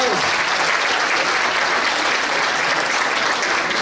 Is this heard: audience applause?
yes